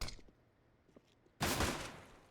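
Counter-Strike gunfire punching through walls on the Vertigo map during a pro match: a few faint, muffled shots early on, then a sudden loud, sustained burst of rapid fire that tails off.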